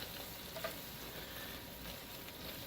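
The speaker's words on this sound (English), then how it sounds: "I'm going to stir that up real good" Flour being stirred into hot fat in a pan to form a paste for a shrimp fettuccine sauce, a steady soft sizzle and frying hiss with faint scraping of the spoon, close and continuous with no voices.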